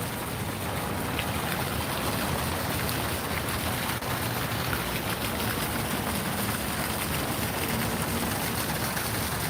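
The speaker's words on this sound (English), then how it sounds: "It's just the sound of water." Steady rushing and splashing water during an early-morning walk along Fifth Avenue in Midtown Manhattan, a dense constant hiss with faint traffic rumble beneath.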